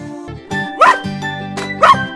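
A dog gives two short, sharp barks close by, spaced about a second apart, over a soft, steady musical tone.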